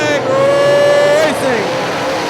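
UMP modified race cars roar back to speed on a green-flag restart at Hartford Speedway Park in 2005, engines whining loudly and rising in pitch as they pass close by, then fading slightly.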